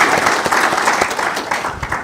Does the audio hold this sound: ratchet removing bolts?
no